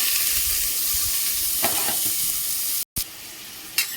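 Chopped onions sauté in a pan for an intestine curry, giving a constant close sizzle with a few soft knocks of a utensil and a momentary cutout near the end, without any talking.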